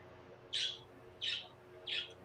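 Three short, bright bird chirps spaced evenly about two-thirds of a second apart, fairly close and clear over a faint steady background hum, with no talking.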